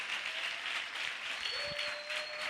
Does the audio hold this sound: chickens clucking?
no